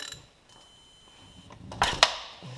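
A socket wrench with a 19 mm socket breaks loose the oil drain plug on a 2007 Audi A4 2.0T, giving a couple of sharp, close mechanical ratchet clicks after a quiet stretch.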